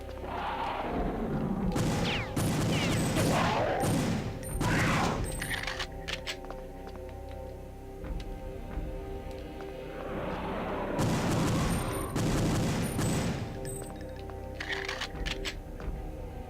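Falcon pistol gunfire from the Perfect Dark game, bursts of loud shots in two clusters with game effects and background music between them.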